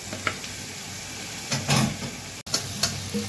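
Ginger and chopped tomato sizzle steadily in a hot pan, stirred now and then with soft scraping bursts, close up and with no talking over them.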